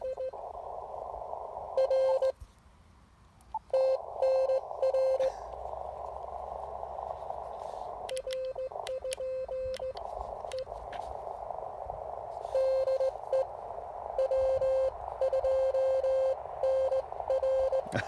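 Morse code sidetone from an Elecraft KX3 memory keyer sends a steady, mid-pitched string of CW dots and dashes. The beeps pause twice, and faint voices and a few clicks are heard in between.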